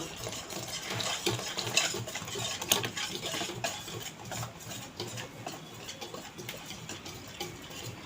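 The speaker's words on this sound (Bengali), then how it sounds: "জল দিয়ে গাঢ় করে গুলব" A spoon stirs batter thinned with water in a bowl for a quick breakfast recipe, giving a close, continuous scraping and clinking rhythm that runs steadily for several seconds with no voices.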